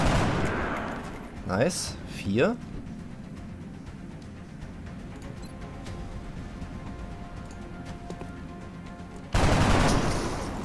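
Gunfire in the video game XCOM: two short bursts of shots early on, then quiet, then a louder blast near the end, with a voice speaking briefly.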